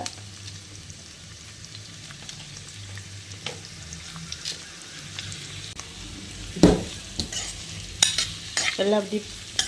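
Onions, tomato and green chili fry and get stirred in a pan for Tamil-style tomato kurma, a low steady sizzle with occasional louder scraping stirs near the end, no talking.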